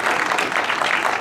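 An audience at a furry convention game show applauds, a short, dense burst of clapping that is loud and continuous with no voices.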